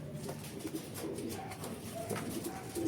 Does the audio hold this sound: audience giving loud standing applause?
no